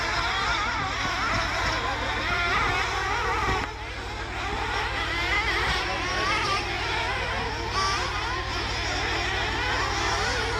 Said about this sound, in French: Moteur impeccable, c'est parti pour le 4.